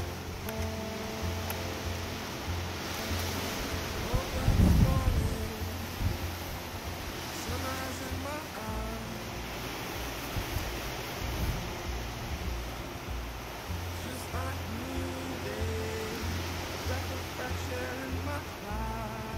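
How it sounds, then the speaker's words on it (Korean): Strong gusting wind on a mountain summit, about 7 m/s, buffets the microphone with a continuous roaring rumble and a louder gust burst early on, with faint talk underneath. "와, 바람 진짜 난리 났어요."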